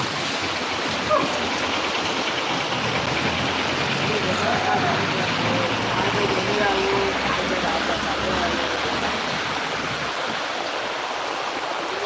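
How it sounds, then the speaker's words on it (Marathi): Steady, dense rush of heavy monsoon rain in Chiplun filling the whole clip, a constant broadband hiss with no breaks. "मला वाटत नाही लवकर पाऊस सुटका करेल घरी जाईपर्यंत"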